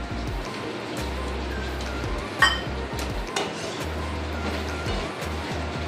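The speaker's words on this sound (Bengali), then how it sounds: "আমি কিশমিশ দিয়ে আর মিনিটখানি নেড়ে এটাকে সার্ভ করে নেব" Carandas cherry jelly with raisins is stirred in a pan, making soft scraping and occasional clinks of a spoon against metal over a steady low background hum, with one sharper knock midway.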